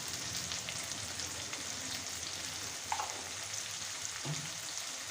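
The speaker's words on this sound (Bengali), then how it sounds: "ভালোভাবে মিশিয়ে নিয়ে হালকা করে ফ্রাই করে নেব।" Onion and capsicum fry lightly in a pan for chilli chicken gravy, giving a steady, even sizzle throughout with a soft clink or two of a utensil, no talking.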